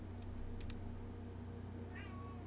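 A house cat lets out a brief meow toward the end, faint and a little distant, following a couple of sharp clicks, over a steady low electrical hum with no talking.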